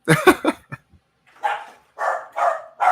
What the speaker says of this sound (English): I hear his dog.